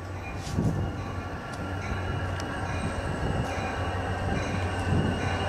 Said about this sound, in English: Train approaching. Please remain behind yellow line.